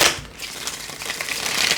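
Tarot cards are riffled and shuffled by hand, giving a continuous close, crisp, papery flutter with no talk.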